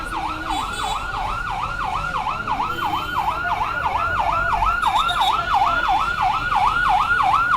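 A fire service vehicle siren wails in a fast, regular up-and-down pattern, loud and continuous, over the rumble of road traffic at a road crash scene.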